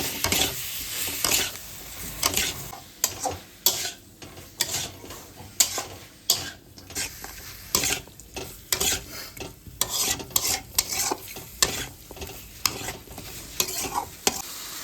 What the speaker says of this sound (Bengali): দিয়ে এবার মাংসের সঙ্গে মশলাটাকে ভালো করে কষিয়ে নেব।